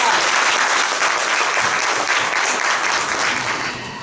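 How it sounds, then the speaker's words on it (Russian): Dense, loud applause from an audience at a young scientists' competition, continuous clapping close by that thins slightly toward the end, with no speech over it. "Еще раз громкие аплодисменты всем участникам."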